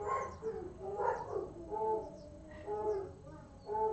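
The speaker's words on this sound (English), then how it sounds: "you can hear Dexter doing his howl and his bark, and then Coco and her deep bark" Two pet dogs sound off indoors: one howls and barks while the other gives a deeper bark, a series of moderately faint, drawn-out calls in uneven rhythm across several seconds.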